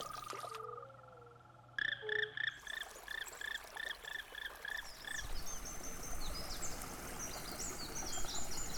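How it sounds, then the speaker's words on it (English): An Apennine fire-bellied toad gives a steady series of short, evenly spaced calls, close and clear, before fading into a busy outdoor chorus of frogs, insects and distant birds. "the native Apennine fire-bellied toad"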